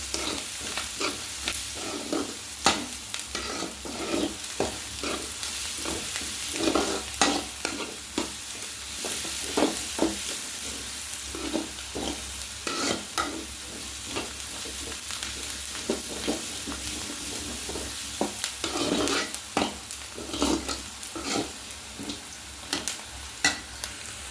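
Mustard seeds frying in hot oil for a mutton curry, a close, continuous sizzle with a stream of small pops and crackles and occasional spoon scrapes.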